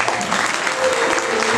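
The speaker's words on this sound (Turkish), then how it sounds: "Buna da bir alkış istiyoruz" Applause from an audience at a community celebration of Hz Fatima's birthday and Nevruz, a steady dense wash of clapping filling the whole moment without a break.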